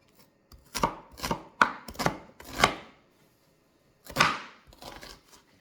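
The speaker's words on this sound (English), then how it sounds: "I'm gonna have to cut the onions." Onions being chopped with a knife for a beef stew: about eight crisp, close knife strikes on a board, one group of five, then a pause, then three more, with no talking.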